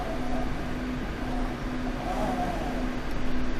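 A tractor engine in Farming Simulator 25 labours up a very steep slope, pulling a trailer converted for log transport, with a steady droning hum that rises slightly in pitch and stays at moderate volume throughout, with no talk.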